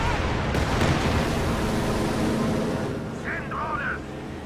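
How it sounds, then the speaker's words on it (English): A P-47 fighter strafes the ground in Company of Heroes 2, a dense, loud roar of rapid gunfire and engine noise that fades toward the end, with a voice talking over it. "Looks like the P-47 is going to come in for another barrage."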